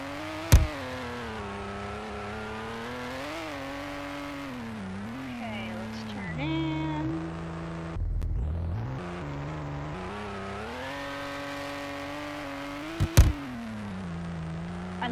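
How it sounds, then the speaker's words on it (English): A 2018 Ford GT engine in the Roblox game Greenville revs and surges steadily, with sharp popping backfires near the start and again around thirteen seconds, plus a brief drop in the engine note midway. "I love those backfires."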